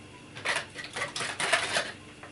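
A utensil stirs pancake batter in a bowl, scraping and tapping rhythmically, a steady series of light clinks and swishes, close and fairly quiet.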